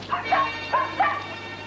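A dog from the 1983 film The Hound of the Baskervilles gives several short yelping, whimpering barks in quick succession, fairly close and clear over a quiet steady background hum.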